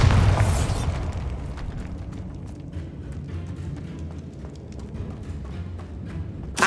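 A Bombarda blast from Hogwarts Legacy: a loud burst at the start that decays into a long, rumbling, crackling tail.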